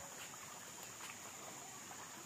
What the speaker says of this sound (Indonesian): anak sungai di sini